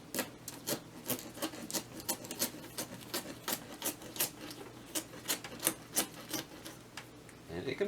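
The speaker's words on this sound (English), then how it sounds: "I'm just gonna kinda try to rip into the skin and remove it like this" A sculpting tool rips and scrapes the skin off a pumpkin being carved into a goblin. Close, rapid, rhythmic rasping strokes repeat steadily, with a soft voice faintly underneath.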